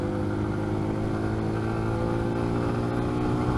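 A car accelerates to pass a slow vehicle travelling around 30 miles an hour, its engine a steady, loud, close drone with strong low harmonics that holds throughout without a break.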